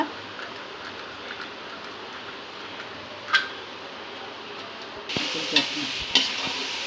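Kara sev dough frying in hot oil gives a constant close sizzle, with a few sharp pops and a brighter burst of crackling near the end.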